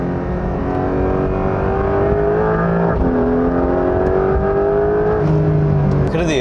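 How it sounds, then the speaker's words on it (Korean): A Porsche 911 GTS turbo engine hums and revs steadily from inside the cabin, pitch rising and falling as it accelerates, with a faint turbo hiss near the end as the accelerator is released. "엑셀 페달을 놓을 때마다 피슉 한 소리도 들리고"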